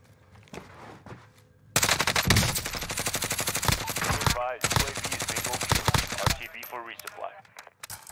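Rapid automatic fire from a Grau 5.56 rifle with purple tracers in Warzone, Modern Warfare, in long loud sustained bursts after a quieter opening, with brief pauses between volleys and some voice underneath.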